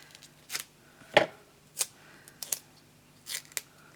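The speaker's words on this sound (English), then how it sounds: "So let me cut some foam off" Scissors snip through craft foam for a handmade scrapbook card, a few short crisp cuts spaced irregularly, close and fairly quiet, with no talking.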